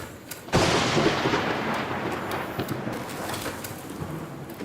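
Lightning strikes in a video game with a sudden loud crack, followed by a broad, sustained rumble of thunder that slowly fades over several seconds, with no talking.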